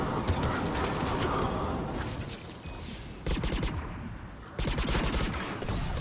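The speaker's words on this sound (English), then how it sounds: "Who's shooting me?" Bursts of automatic weapon fire in the sci-fi shooter Mass Effect 3, loud rattling volleys that break off and resume, with faint game ambience between bursts.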